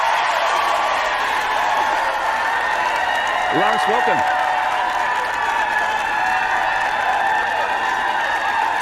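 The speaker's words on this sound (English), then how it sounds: "The crowd goes wild." Crowd applause and cheering welcome a guest onto an online coaching event, a steady wash of clapping that runs the full length at even loudness while someone briefly speaks over it.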